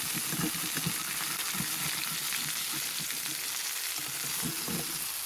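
Steaks sizzling in a pan inside a heated tent during winter camping, with a steady crackling fry and rhythmic scraping of stirring beneath it, close and fairly quiet, no talking.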